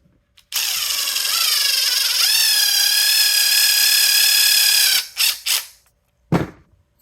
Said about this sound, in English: it's gonna take me about 6 seconds to put a flare on this copper pipe